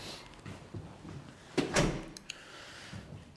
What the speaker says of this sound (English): and then I'll close the door.